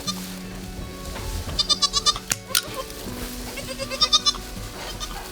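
Goats and young kids bleat repeatedly on a goat farm, quick wavering calls coming in clusters close by, with barn clatter and faint background noise.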